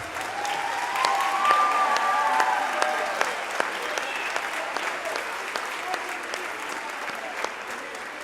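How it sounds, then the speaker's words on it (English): A middle school audience at a spring concert applauds students, a steady wash of many hands clapping at moderate distance, with a faint sustained tone and a few whoops running underneath. "So if y'all would stand up, please, and give them a round of applause."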